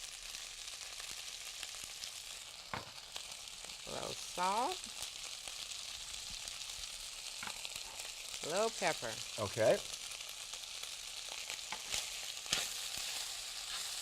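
Green onions fry in a pan with a steady, bright sizzle that lasts throughout, while a person talks briefly over it.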